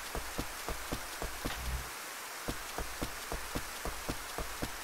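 Rain in the video game Rune Factory, a steady hiss of falling rain with regular soft pattering ticks repeating throughout, moderately quiet and continuous with no talking.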